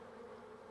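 A honeybee buzzing during the waggle dance inside the hive, a steady, faint, close hum with a clear tonal drone held for a brief moment.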